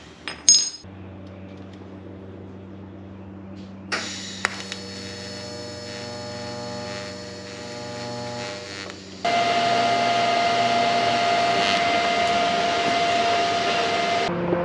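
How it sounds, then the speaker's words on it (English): A tab being welded onto a suspension bracket for the rear four-link and airbag setup of a 1940 Chevy. A steady electric buzz and hum holds throughout, with brief clicks at the start and a louder, denser crackle toward the end. "So I need to weld this tab onto here"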